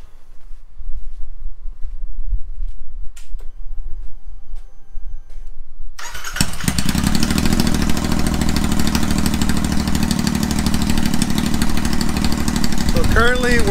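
A Royal Enfield Interceptor 650 with slash pipes starts after a few quiet seconds of faint handling noise, then idles loudly and steadily in a close, rumbling drone.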